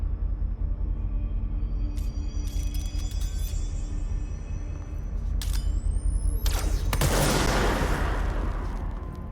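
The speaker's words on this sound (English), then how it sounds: "it's like a crazy sniper rifle, but you can't hold it forever" Rapid bursts of heavy weapon fire from a sniper-like gun in the video game Control, a few sharp cracks early on, then a dense loud volley near the end over a steady low game rumble.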